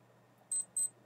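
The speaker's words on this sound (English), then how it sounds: "So this now should be soon ringing the alarm." Two short, high electronic beeps from a Wenger Aquagraph yacht timer watch alarm, evenly spaced and close, over near silence.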